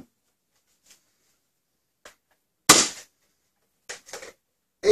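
An X-Shot Quick-Slide dart blaster, a small Zuru toy, fires with one sharp snapping pop, followed by a few lighter clicks of handling nearby.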